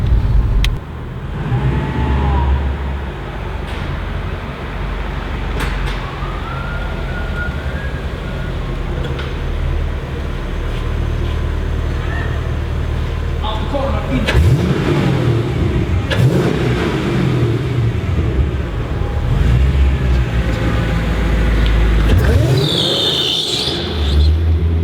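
Mercedes-AMG car engine revving and accelerating outdoors at a race and drift event, a loud continuous roar with rising and falling pulls and sharp surges, up close and alone without talk.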